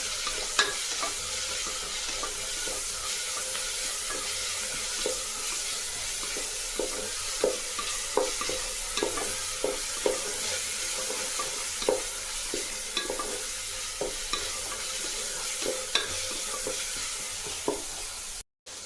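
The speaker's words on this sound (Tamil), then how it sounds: "நம்ம அரைச்சி வச்ச சோம்பு, பச்சை மிளகா, பூண்டு போட்டுக்கலாம். நல்லா பச்சை வாசனை போகிறோம் இல்லையா, நம்ம இதை நல்லா வதக்கலாம்" Ground fennel, green chili and garlic sautéing in a pan with a steady broadband sizzle, punctuated by regular clicks and scrapes of a spoon stirring, close and continuous with no talk.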